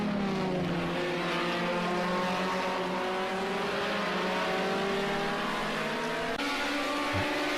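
A 1973 BMW 2002 race car engine in Project Cars 2 drones loudly and steadily, its pitch rising and falling through gear changes and corners as the car runs close for the whole stretch.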